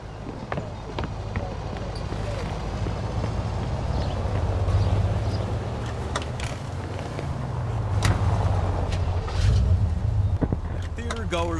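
A car drives through the streets in the Mafia 2 video game, its engine a steady low drone with passing road noise and occasional thuds, while characters talk over it.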